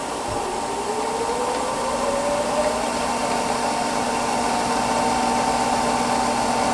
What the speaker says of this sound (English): It's not very loud because we're not talking a gas-powered motor here, just a treadmill motor.